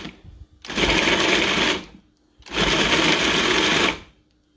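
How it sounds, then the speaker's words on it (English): A food processor pulses semi-frozen tilapia in two loud, whirring bursts of about a second each, separated by a brief pause, close and alone. "So now we're just going to go ahead and pulse this."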